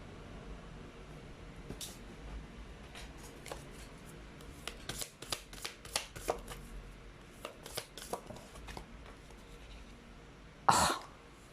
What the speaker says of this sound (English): Oh, he saw me shuffle.